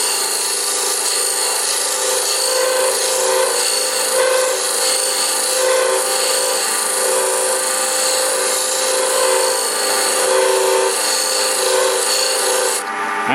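Old gouge rocked back and forth to cut a bead into wood, a continuous close rasping scrape with a rhythmic back-and-forth texture, steady and fairly loud with no talk.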